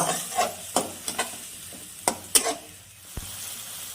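Ground cumin, turmeric and chili powder stir-fried in a pan for a potato and pointed gourd curry, a soft sizzle broken by several sharp scrapes and taps of a spatula against the pan.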